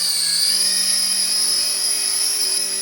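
A small toy remote-control helicopter lifts off and hovers, its high rotor whine steady and close throughout, with a faint low motor hum beneath.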